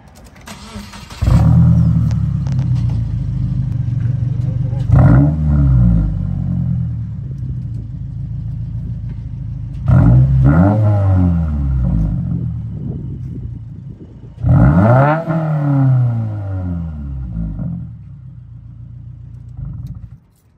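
A 2022 Subaru WRX with stock parts except Boso axlebacks, a muffler delete and a Remark non-resonated midpipe revs in four loud, close bursts, each rising and settling back to a rumbling idle.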